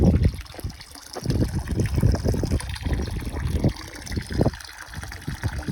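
Spring water running down through pipes into a tank on a mountain trail, a steady trickling and splashing flow that stays close and fairly constant.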